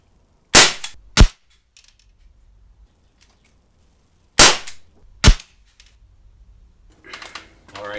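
Quick pistol shots are fired at a target, four sharp, loud cracks in two close pairs with a quiet gap between them.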